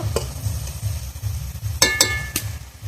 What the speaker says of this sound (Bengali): আবার আমি ভালোভাবে কষিয়ে নেব।